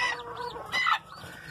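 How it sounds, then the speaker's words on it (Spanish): Two brooding hens sitting on their nests give a few soft, close clucks and low throaty murmurs in a quiet setting, with brief pauses between calls. "esas 2 gallinas echadas a la vez"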